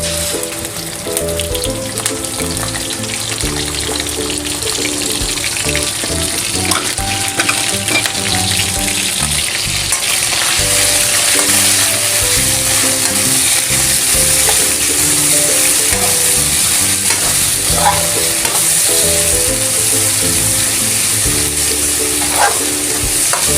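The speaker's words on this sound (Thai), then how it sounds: "เมื่อกระเทียมมีกลิ่นหอมแล้วนะครับเราก็ทำการ นำหมูลงไปผัดนะครับ" Pork stir-fried in a pan with fried garlic for a pumpkin, pork and egg dish: a loud, dense, continuous sizzle like heavy rain, with occasional spatula scrapes, close and without talk.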